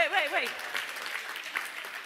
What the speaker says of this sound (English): I want everybody to give them, and I mean a big round of applause